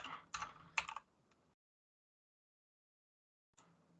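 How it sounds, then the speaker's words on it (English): Quick clustered keystrokes on a computer keyboard as a date is entered, a short burst of close typing followed by silence and one faint keystroke at the end. "Let me type that in real quick"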